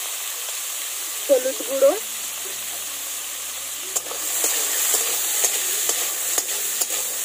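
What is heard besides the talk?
cut potatoes frying in hot oil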